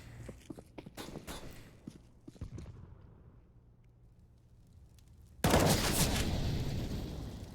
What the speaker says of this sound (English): Brief exchange of gunfire, but no deaths as a result